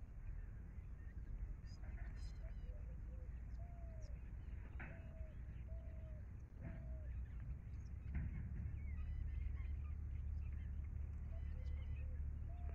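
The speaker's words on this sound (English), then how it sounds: "I hope that you can hear their sounds. There are so many Munya birds just front of me feeding on" Munia birds feeding close by in Jharkhand woodland, giving short, soft chirps and calls scattered over a steady low rumble of background noise, fairly faint.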